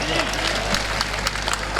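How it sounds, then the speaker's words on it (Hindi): Audience claps at an outdoor Hindi-Urdu poetry recital held for Independence Day, scattered hand claps over a low steady hum, with a voice talking through it. "आप लोग ताली बजाएं"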